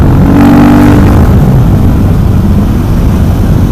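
A KTM 500 EXC supermoto motorcycle engine roars loud and close as the throttle opens, a heavy, dense rumble that holds strongly across the whole stretch before easing slightly toward the end.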